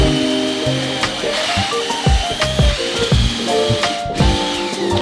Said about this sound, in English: Once I finished drilling the hole in the bottom of the post